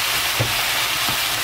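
Soy sauce sizzles in a hot pan during stir-frying, a steady close hiss broken by two soft stirring scrapes, with no voices.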